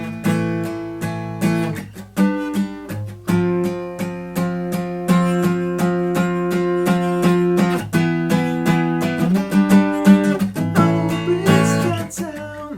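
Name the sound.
guitar chords played with capo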